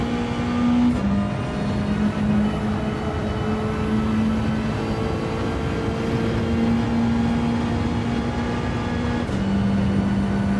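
Car engines in a racing video game hum steadily at close range, the engine tone holding level and then shifting pitch near the start and again near the end, with no talking.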